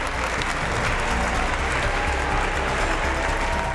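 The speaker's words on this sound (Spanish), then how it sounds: "El público ha estallado en aplauso." Theatre audience in Hungary bursts into applause after a Swan Lake ballet performance, thick continuous clapping from a large crowd, loud and even throughout.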